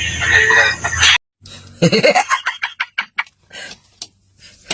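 A bird in an online video game gives rooster-like crowing and clucking calls in short bursts, loud and close, with a voice talking over the start.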